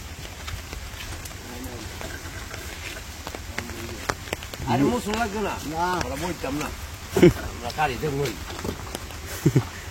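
Steady rain patters in the background at a village market while several people talk nearby, with a few sharp knocks and thumps.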